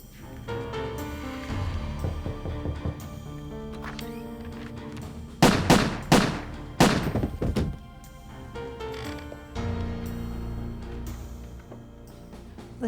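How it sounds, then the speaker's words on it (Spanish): Two loud gunshot-like bangs around the middle, following a knock at the door during a home attack in a true-crime reenactment, sharp percussive cracks over a dramatic musical background. "Los disparos fueron muy sonoros"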